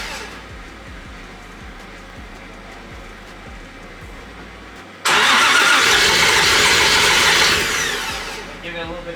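A built Toyota 1JZ engine swapped into a Nissan 350z at its first start: the starter cranks with repeated ticks, then the engine catches and roars to a loud, rough run that slowly eases off, with faint voices in the background.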